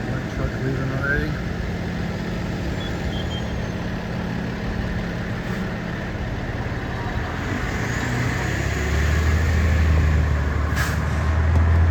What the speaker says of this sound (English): Truck leaving already.